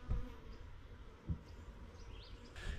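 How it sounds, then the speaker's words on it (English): Honeybee scout bees buzzing around a swarm trap outdoors, a faint continuous hum with a few closer passes, fairly quiet and without talk. "a bunch of scout bees checking out this one too"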